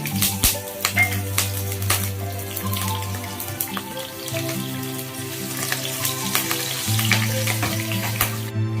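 Chillies fry in hot oil for Haldiram-style navratan chivda, giving a loud, steady sizzle with sharp crackles and pops over a constant low mechanical hum.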